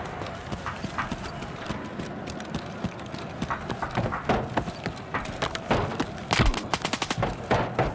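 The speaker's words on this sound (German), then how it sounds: "wer beschießt mich denn hier?" Gunfire in the Escape From Tarkov Arena game, with dense crackling bursts of shots that build into a rapid, rattling volley near the end. The shots sit over a constant gritty background clatter.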